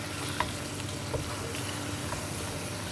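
Chicken added to softened tomato masala sizzles steadily in a pan, a low, even frying hiss with faint stirring clicks throughout.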